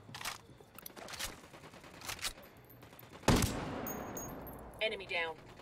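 Gunfire in the video game Rainbow Six Siege, Ghost Mode, set in Bolivia: several sharp single shots early on, then a loud close burst of fire followed by rapid electronic bleeps and a faint voice.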